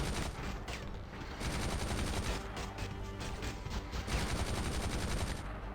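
Dense, continuous rapid gunfire from enemies in the Iron Man PSP video game, rattling in bursts like machine-gun fire throughout with no pause.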